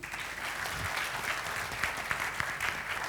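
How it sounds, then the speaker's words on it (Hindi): Audience applause at an awards ceremony, a fairly quiet, continuous patter of many hands clapping throughout, with a few sharper individual claps standing out. "एक बार तालियां बजा के बता दीजिए"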